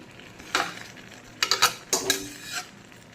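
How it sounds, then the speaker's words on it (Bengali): Chicken and papaya for a curry cooked in a wok, with a few short scraping stirs of a spatula against the pan in separate bursts, close and moderately loud, with no talk. "তো এখন চিকেনটাকে বেশ কিছুক্ষণ আমি ঢাকা চাপা দিয়ে দিয়ে কষিয়ে নেব"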